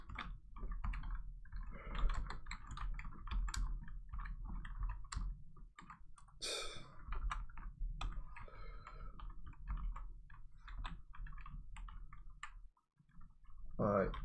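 Someone touch-typing on a computer keyboard, a quick uneven patter of key clicks close by, running under someone talking throughout.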